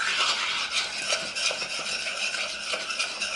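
A spoon stirs a thick cheesy potato mixture in a pot, soft repeated scraping and squelching strokes at close range, steady and unbroken, with no voices.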